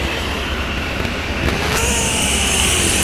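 A bus rolls in to the Bakauheni ferry port, one of a line of buses arriving from West Sumatra. Its engine rumbles loudly nearby under steady broadband road noise, with a brief rising whine partway through.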